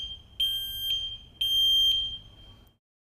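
A household smoke detector sounds its test alarm in two long, loud piercing beeps, each briefly stuttering at its start, over a low background hum, then cuts to silence.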